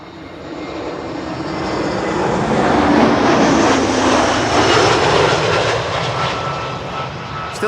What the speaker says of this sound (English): is this Lufty arriving from Frankfurt